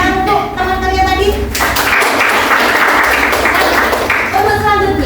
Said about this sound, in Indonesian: tepuk tangan untuk teman kalian tadi